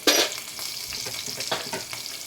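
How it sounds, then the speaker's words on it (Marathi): Curry leaves, garlic and green chillies hit hot oil in a tempering with a sharp, loud burst of spluttering, then settle into a steady close crackling sizzle with small pops. "त्यानंतर कढीपत्ता घालते लसूण घालते मिरच्या घालते"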